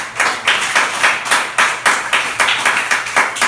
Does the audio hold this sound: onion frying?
no